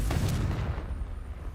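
A Confringo spell blast in the game Hogwarts Legacy, a loud, booming explosive burst at the start that rolls into a dense, fading rumble and crackle.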